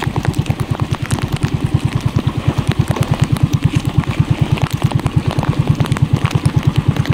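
Fishing boat engine idling steadily while the boat circles at sea, a close, loud rhythmic low chugging with fast, even pulses throughout, faint clatter on top.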